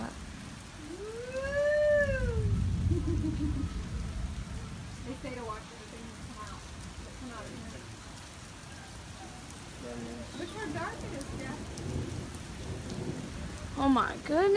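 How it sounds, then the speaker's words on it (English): Steady heavy rain pours through a thunderstorm with a deep rumble of thunder underneath, while people talk and a rising tone sweeps past early on. "it's really stormy here"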